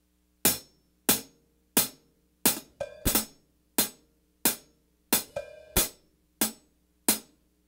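A cymbal miked from above the rim with the microphone angled slightly downward, struck about a dozen times in a steady rhythm, each bright crash decaying quickly, close and alone with no talking.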